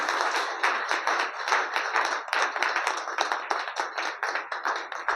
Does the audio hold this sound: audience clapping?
yes